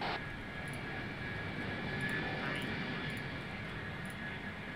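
Jet aircraft in the Ace Combat video game, landing on autopilot at an airfield: a steady, loud broadband engine roar holds throughout with faint ticking clicks on top, and speech-like game sounds mixed in.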